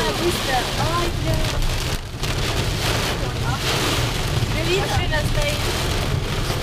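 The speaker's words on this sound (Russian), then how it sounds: "у нас вообще льет жесть." A heavy downpour roars close and constant, rain drumming hard on surfaces in a thick wall of sound, with voices chattering over it.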